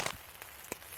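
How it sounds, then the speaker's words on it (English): Rain patters on a tent during a solo wild camp in the woods, with a few sharper drops tapping against a faint steady hiss, close and quiet, no voices. "The rain doesn't seem to have let up much."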